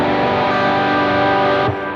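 A distorted electric guitar strums a full open chord that rings thick and muddy, saturated and sustained for nearly two seconds, then cuts to a softer, thinner decay.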